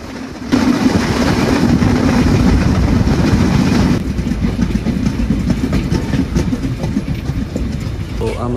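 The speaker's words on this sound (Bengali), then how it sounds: "উল্লাপাড়া স্টেশন থেকে সিগন্যাল ক্লিয়ার থাকায় ট্রেনটি ঝড়ো গতিতে মনসুর আলী স্টেশনের" Dhumketu Express intercity train running at high speed between Ullapara and Shahid Mansur Ali stations, a loud continuous rumble and rattle of wheels and carriages with rhythmic clatter throughout, heard from on board.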